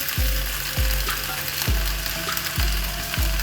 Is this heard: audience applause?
no